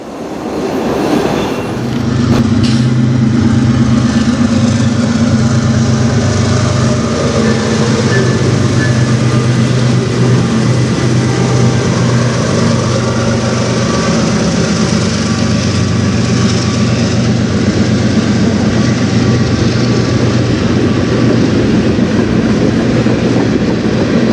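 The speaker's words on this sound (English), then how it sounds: "This train though does have a lot of potash and stuff like that" A freight train carrying potash cars rolls past on the Strathroy Sub, arriving quickly and then keeping up a loud, sustained rumble of wheels and cars with faint rhythmic clacking for the whole stretch.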